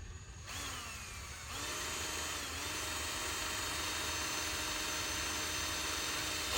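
A power drill bores a hole for the handlebars of a 1973 Honda CB350 Four, a steady whirring drone that starts after a brief pause and holds at moderate level without talk.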